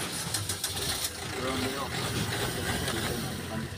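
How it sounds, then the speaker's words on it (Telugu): A 2019 Maruti Swift Dzire VDi diesel car engine starts and settles into a steady, close rumbling idle, with a faint bird call in the background. "ఒకసారి ఇంజన్ ఆన్ చేసి చూపిస్తా చూడండి ఒకసారి"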